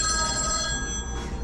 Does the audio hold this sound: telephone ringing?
yes